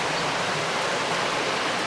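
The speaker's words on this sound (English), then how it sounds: "you can see the little creek here running through our front yard" Small creek runs past a cabin in the Mindo cloud forest in Ecuador, giving a continuous, even rushing of water that is close and steady throughout, with no talking.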